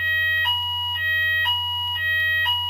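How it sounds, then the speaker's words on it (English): A building's electronic fire alarm, set off on a weekly test, sounds loud and close in a regular two-tone pattern that alternates about every half second over a low steady hum. "This is a fire alarm that goes off every Thursday at this time"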